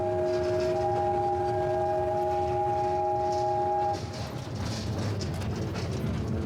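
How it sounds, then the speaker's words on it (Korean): A desert railway train in Jordan sounds a long, steady horn and then pulls away, with rumbling, clattering wheels rolling on continuously at close range after the horn stops. "드디어 열차가 출발하고 승객들도 신이 났다."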